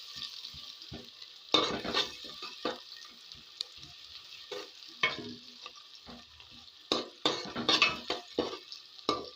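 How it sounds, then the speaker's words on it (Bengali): Chopped onion, one large onion, stirred and fried in a pan for a fish and ridge gourd dish, giving a steady sizzle broken by bursts of spoon scraping and clatter against the pan, close and fairly loud with no talk. "কিছুক্ষণ নাড়াচাড়া করব আমি এই পেঁয়াজটাকে"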